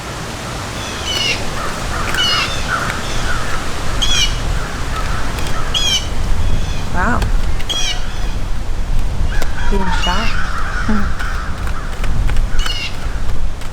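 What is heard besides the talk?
birds cawing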